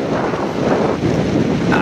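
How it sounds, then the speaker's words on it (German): Strong, steady wind buffets the microphone during a bike ride near Risør, Norway, a loud continuous low rumble with gusty roaring and no talk. "Weil es ist schon ein sehr kräftiger Wind"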